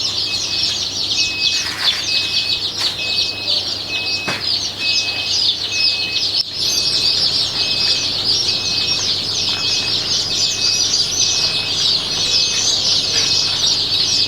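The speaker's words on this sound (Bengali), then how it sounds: "অরিজিনালি পিওর দেশি মুরগির বাচ্চা" A hatchery crowded with native desi chicken chicks fills the air with dense, continuous high-pitched chirping, many birds peeping at once, close and steady throughout.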